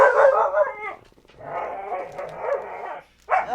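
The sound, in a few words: dog barking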